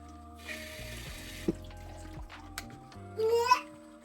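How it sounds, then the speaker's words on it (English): Tap water runs and splashes in a sink while dirty eggs are washed, broken by a few knocks and clinks, and then a brief burst of louder rushing water at the end. "Wash your eggs because these eggs, they get dirty."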